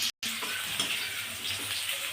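Raw banana pieces with salt and turmeric fry in a pan, giving a steady close sizzle with faint stirring and a brief cutout at the start.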